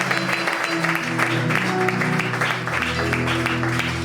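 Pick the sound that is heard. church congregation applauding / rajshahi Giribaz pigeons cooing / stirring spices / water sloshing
church congregation applauding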